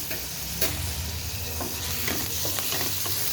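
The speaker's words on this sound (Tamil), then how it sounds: "Ginger garlic paste 1 spoon add பண்ணிக்கிறேன்." Ginger garlic paste fries in a pan for shahi pulao, giving a constant close sizzle broken by scraping stirs and a few sharp spoon knocks.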